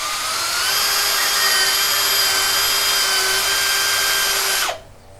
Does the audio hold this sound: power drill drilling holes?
yes